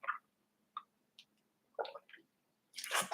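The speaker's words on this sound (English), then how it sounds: "I'm just going to take a mouthful of water so I can talk." A mouthful of water being taken: a few small, quiet wet clicks and squishy mouth sounds spaced apart, ending in a louder slurping gulp, close and otherwise near silent.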